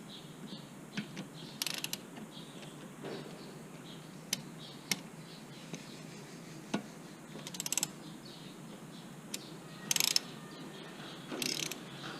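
A screw is driven back into a car's turbo inlet, giving soft repeated ratcheting clicks and small metallic ticks from close by, quiet with a few sharper clacks.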